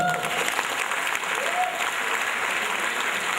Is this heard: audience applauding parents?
yes